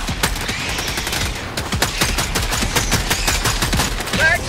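Rapid bursts of marksman rifle gunfire in the video game Helldivers 2, dense sharp repeated shots with busy battle noise, loud and close, without talk.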